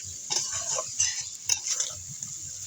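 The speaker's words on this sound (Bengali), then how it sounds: "তো এভাবেই আমি অনেকক্ষণ কষিয়ে নিব।" Shrimp being sautéed and slowly cooked down in a pan, with a steady sizzle broken by repeated scraping stirs of a utensil against the metal, close and alone.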